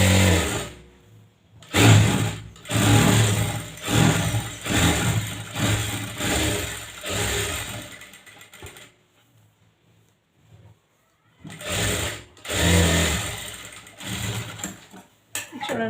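Sewing machine stitching blouse sleeves and attaching lining, running in close, loud bursts of rapid stitching separated by short pauses and a longer quiet stretch before it starts up again.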